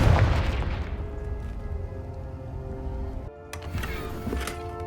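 Explosion from the Confringo blasting spell in the Hogwarts Legacy video game: a deep boom that decays into a rumbling tail, briefly cut off, then followed by crackling debris and lighter pops.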